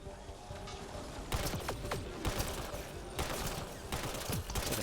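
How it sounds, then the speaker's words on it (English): Repeated rapid shots from an automatic sniper rifle in Mass Effect Andromeda, a string of sharp cracks over a steady bed of combat noise, fairly quiet overall. "It's like an automatic sniper rifle."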